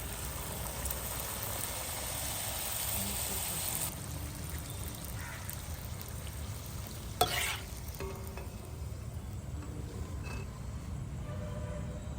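Puris frying in oil in a kadai, a quiet, steady bubbling sizzle with one brief louder clatter partway through, close but low in level, no voices.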